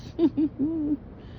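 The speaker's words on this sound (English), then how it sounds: "Oh, look at all the morning doves in the tree." Mourning doves in a tree give a soft coo in three parts, two short notes and then a longer drawn-out one, at moderate distance in a quiet outdoor setting.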